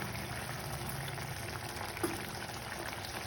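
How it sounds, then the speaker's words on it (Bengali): Fish curry gravy bubbles at a simmer in the pan, a faint, steady low burble and hiss with one soft pop partway through and no talk. "ঝোল ফুটে উঠেছে, এখন আমি ভেজে রাখা মাছগুলো দিয়ে দিব।"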